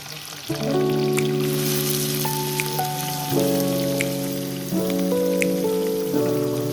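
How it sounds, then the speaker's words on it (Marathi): Chopped onion and a couple of bay leaves sizzle steadily in well-heated oil, a loud continuous fry with sustained musical tones playing over it throughout. "आपण थोडा कांदा कसा मरतपर्यंत आपल्याला त्याला भाजायचा आहे"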